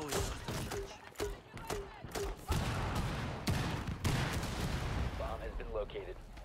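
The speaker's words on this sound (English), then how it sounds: "Cluster charge deployed. Blowing cluster charge." Cluster charge detonations in Rainbow Six Siege, a rapid string of sharp explosive bangs in succession, with game voice lines and in-game sounds mixed around them.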